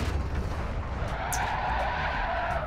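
A vehicle drifting with skidding, squealing tires in the video game Call of Duty DMZ: a continuous tire screech with engine roar, moderately loud and steady for a few seconds, with no voices.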